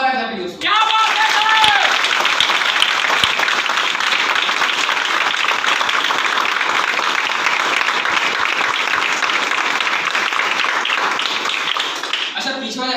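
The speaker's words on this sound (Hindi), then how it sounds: "जोरदार ताली दोस्तों" A crowd at a business plan meeting in Varanasi breaks into loud, sustained applause with dense clapping, close and continuous, after a brief voice at the start and fading near the end.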